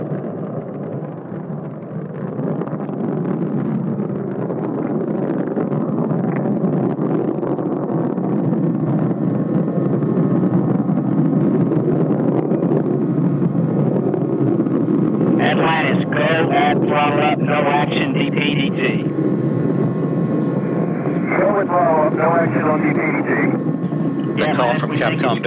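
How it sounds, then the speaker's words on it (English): Space Shuttle Atlantis climbs during launch ascent with a steady, loud roaring rush of its main engines and boosters, like heavy wind, while radio voices come in over it toward the end. "Engines now revving up, standing by for the throttle up call."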